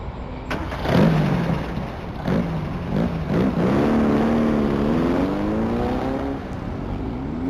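A car engine turns over and revs up, then pulls away, the engine note rising and falling steadily at close range with no talk over it.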